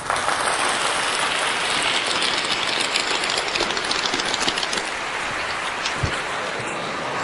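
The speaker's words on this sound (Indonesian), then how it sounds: "Tepuk tangan yang meriah." An office gathering breaks into steady, dense applause that fills the room for several seconds, with a soft bump near the end as it continues.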